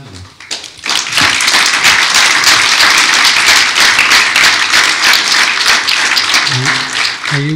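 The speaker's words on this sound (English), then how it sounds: "I think we will have to give applause to this panel." Audience applause for a panel at a polar research townhall event, dense sustained clapping that swells in quickly and holds loud for several seconds before starting to thin near the end.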